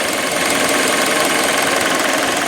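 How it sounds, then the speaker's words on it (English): A 2019 Hyundai Elantra's 2-liter inline-4 idles loud and close, a dense steady mechanical hum with a fine rapid ticking running through it, no voices over it. "Here's the 2-liter inline-4 engine."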